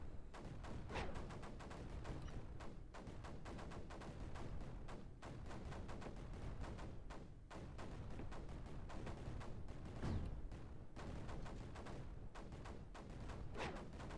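Sniper units firing in the strategy game Creeper World 4, a dense, continuous barrage of sharp shots and thuds layered over a steady rumble, holding at an even loudness throughout.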